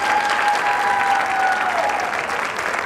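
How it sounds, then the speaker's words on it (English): Audience applause at a high school spring band concert, a steady wash of many hands clapping throughout at even volume, with a faint sustained tone running beneath it. "Let's give a warm round of applause for Tyler."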